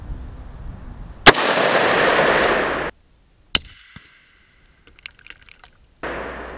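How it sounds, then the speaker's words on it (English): Two sharp, loud gunshots from a PSA AR10 rifle firing a Hornady Whitetail test bullet outdoors, the first followed by a long rolling echo, then faint scattered clicks and handling noise. "we put in a test bullet. It's a Hornady Whitetail, and we're gonna see how well the gun handles an ammo change"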